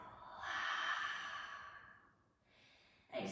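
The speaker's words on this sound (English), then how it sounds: "Now take an open mouth exhale." A single long open-mouthed exhale during a yoga breathing exercise, a soft breathy sigh rising then tapering over a couple of seconds, close and alone, followed by a short fresh breath.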